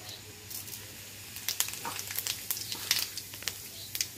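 Cumin seeds are dropped into hot oil in a pan on a gas stove at the start of making wheat rava upma. They sizzle and crackle in quiet, sharp pops that grow busier partway through.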